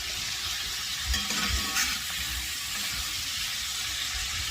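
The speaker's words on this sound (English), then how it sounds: "put my kielbasa sausage in the skillet. We have it going here." Kielbasa sausage sizzles steadily in a skillet greased with Crisco over turned-down heat, a constant close frying hiss with a few faint clinks of stirring.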